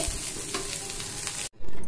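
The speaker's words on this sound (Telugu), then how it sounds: "ఈ ఎండుమిర్చిని ఇలాగైతే వేసుకొని ఒక 5 నిమిషాలు అయితే వేయించుకుంటే సరిపోతుంది" Dried red chillies and onion fry in a pan for Telugu vankaya ulli karam, giving a steady, close, dense sizzle with stirring that breaks off briefly near the end before returning loud.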